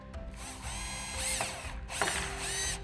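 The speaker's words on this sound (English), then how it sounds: "I'm going to drill through just a little bit, so just to find my screw." A power drill whirs in two bursts as it bores into a tank screen to find a screw, close and loud, with a rising and falling motor whine and no talking.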